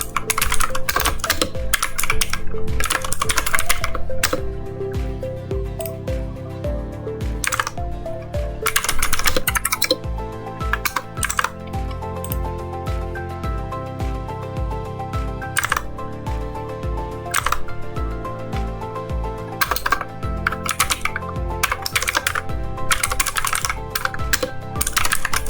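Close, clattery typing on a computer keyboard as a command is entered: rapid bursts of key presses with short pauses between them, continuing steadily throughout.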